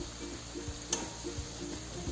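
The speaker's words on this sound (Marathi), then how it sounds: "आता हे पूर्ण अशी व्यवस्थित फ्राय होऊन द्यायची" Onion bhaji (kanda bhaji) frying in hot oil after being flipped, a steady soft sizzle with a faint crackle and one brief sharp pop near the middle.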